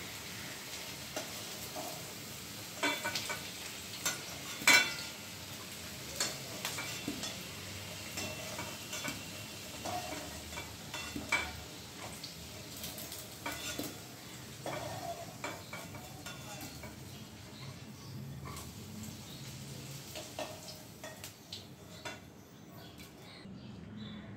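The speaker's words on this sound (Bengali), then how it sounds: "এবার আমি ভাজা আলুগুলো একটা প্লেটের মধ্যে তুলে নিচ্ছি।" Fried potatoes are lifted out of hot oil onto a plate, with a soft continuous sizzle and scattered scraping and clinking of a spatula against the pan.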